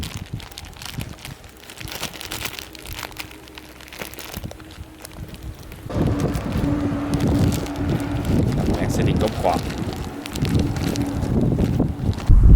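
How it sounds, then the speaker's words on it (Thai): Strong wind at the top of a tall lookout tower, buffeting the microphone with a rough, low rumble that grows noticeably louder and heavier halfway through and keeps gusting to the end. "ลมแรงมากครับ"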